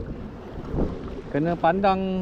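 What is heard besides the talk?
strong wind while kayak fishing at sea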